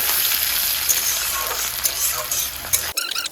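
Onions fry in a pan for a home Sunday lunch, with a steady, loud sizzle and crackle. The sizzle cuts off sharply near the end, leaving brief clatter.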